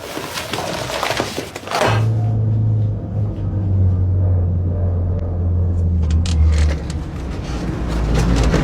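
A car driving on a road, its engine rumbling as a low steady drone, close and loud, after a burst of louder noise with thumps at the start.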